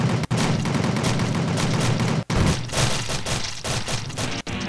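Rapid automatic gunfire from an action video game rattles on loud and nearly continuous, a dense stream of shots interrupted by a couple of brief gaps, with no talking over it.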